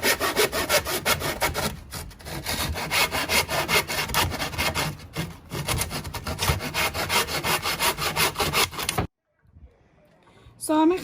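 Wood being sawn by hand at an angle during garden work, a continuous rasping back-and-forth stroke rhythm, close and loud, stopping abruptly near the end before another short burst of noise.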